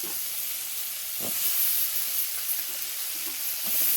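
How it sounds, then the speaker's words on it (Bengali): Ridge gourd and potato fry in a pan of oil, a loud continuous sizzle with occasional scraping stirs, close and unaccompanied by voices. "ঝিঙে বেশিটা ভাজতে লাগবে না, একটু নাড়াচাড়া করে নিয়ে ওতে আমি আলুটা দিয়ে দেবো।"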